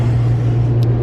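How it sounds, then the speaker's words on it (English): Truck rolling through an automatic car wash, a loud steady low hum of machinery with constant rushing noise and a brief hiss near the end, no talk. "this is what it looks like going through the car wash"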